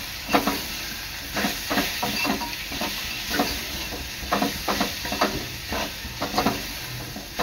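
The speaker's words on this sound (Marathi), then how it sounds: "चांगलं 3 ते 4 मिनिटं कांद्यामध्ये परतून घ्यायचं आहे" Ground garlic, chili, peanut and cumin paste sautéed with onions in a pan, repeated scraping stirs over a steady sizzle and hiss, close and fairly loud, with no talking.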